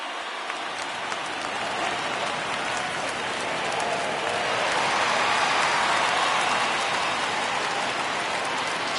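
Steady rain falls in the MLB 19 baseball video game, a dense even hiss of drops that swells slightly midway and holds without pause, with no talk over it.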